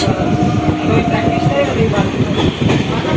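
A moving train, running a little late, heard from near the open door: a loud, continuous rattling roar with faint clatter from the wheels.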